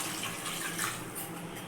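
Water poured a little at a time into chicken gravy cooking in a pressure cooker, a soft steady splashing trickle that runs close and continuous without a break.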